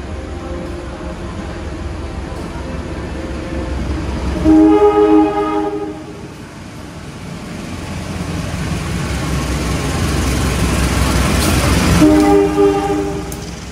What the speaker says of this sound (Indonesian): Ini juga salah satu kereta murah yang menghubungkan Solo Jakarta.